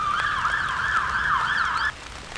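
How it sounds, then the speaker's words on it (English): A loud wailing siren rises and falls in a steady rhythm, then cuts off abruptly, leaving quieter background noise. "Just wait for the sirens to stop."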